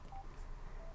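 A Sena 60S motorcycle headset sounds two short electronic beep tones after its phone button is pressed twice, small and close over a steady low hum.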